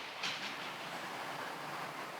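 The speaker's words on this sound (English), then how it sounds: "I'll bring the 68 back round and I'll stop it in the station" A model railway Class 68 diesel locomotive runs into a station on a layout, a steady close rolling rumble with a faint clatter throughout.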